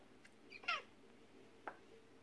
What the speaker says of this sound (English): That there's my cat.